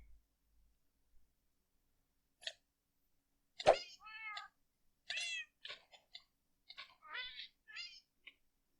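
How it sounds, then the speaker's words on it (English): Several cat meows in the Minecraft modpack FTB InfiTech 2, arriving in a scattered run of short, clear calls with brief gaps between them, fairly near and heard alone without talk. "The hell are those cats?"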